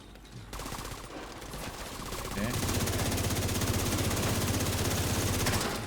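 Rapid, rattling bursts from an M4 rifle in The Division 2 pour out continuously and loudly, building into a dense sustained stream of automatic fire.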